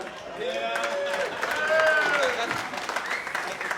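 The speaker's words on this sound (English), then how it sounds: "All right, clap on that one." Audience applause fills a live comedy podcast taping at a comedy club, a steady wash of clapping with some cheering and whistle-like tones running throughout.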